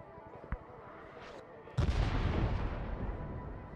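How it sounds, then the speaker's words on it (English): An HE artillery shell lands in the Arma 3 military game, a sudden deep boom with a rolling rumble that trails off, preceded by quieter ambient noise and a short click. "fire for effect, one round, HE fire, incoming 10 seconds"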